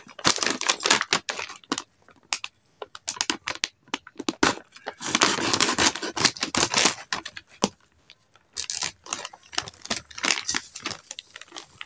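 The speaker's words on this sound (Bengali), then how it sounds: "এখন এই ছুরিটা দিয়ে এই চানাচুরের প্যাকেটটা কেটে নেব।" A knife cutting open a plastic packet of chanachur snack, heard as close, loud bursts of crinkling and crackling plastic in irregular rapid runs with short pauses, no voices.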